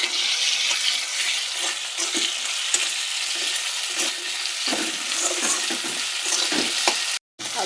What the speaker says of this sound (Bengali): লবণ দিয়ে নাড়াচাড়া করার পরে দিয়ে দিলাম আদা রসুন বাটা।